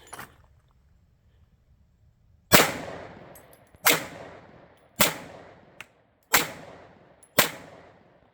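Five sharp pistol shots from an XDM Elite 3.8 handgun loaded with 20-round magazines, evenly spaced about a second apart, each a loud crack with a short decaying tail, after a quiet lead-in.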